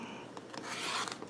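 Trimming a fabric quilt block, most likely a rotary cutter drawn along a ruler, a short, close, soft rasping scrape that builds and fades.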